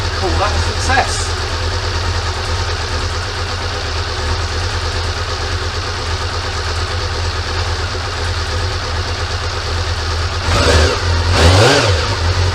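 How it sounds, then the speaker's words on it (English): A Honda CB-1 (NC27) four-cylinder motorcycle engine idles at a low, even tick over, a steady close rumble running throughout, with a brief blip of revs near the end. "Idling quite nicely."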